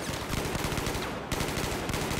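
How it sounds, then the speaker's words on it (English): Rapid automatic gunfire traded back and forth between balconies during a 5v5 domination match in a competitive online shooter, dense and continuous bursts with a brief lull midway. "Some nice shots going to be coming back and forth here"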